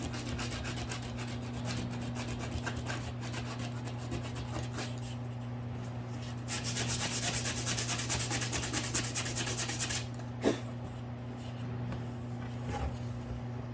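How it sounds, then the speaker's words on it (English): Steady rubbing strokes of sandpaper on wood over a constant low electrical hum, getting busier midway, with one sharp knock near the end. "I can keep sanding that."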